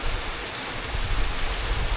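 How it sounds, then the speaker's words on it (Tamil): Heavy cyclone rain from Cyclone Senyar pours down in a loud, dense, continuous hiss close by, steady and unbroken throughout with no voices. "இது வெளுத்து வாங்கிட்டு இருக்கு மழை"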